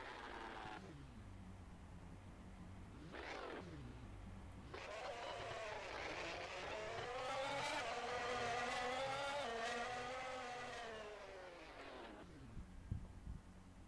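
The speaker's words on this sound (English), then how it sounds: "So some of the cars starting to come across the start-finishing line." Simulated 2021 Formula One cars in rFactor 2 cross the start-finish line at Monaco, engines rising and falling in pitch as they approach and pass, one loud sweeping pass dominating the middle before fading away.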